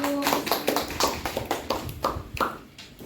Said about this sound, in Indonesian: kasih tepuk tangan buat Mbak Arum.